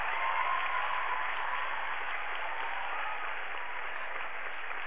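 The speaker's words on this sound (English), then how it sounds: "give yourselves a round of applause" A young audience applauds itself in a steady, dense round of clapping that holds at an even level throughout, sounding somewhat distant and muffled.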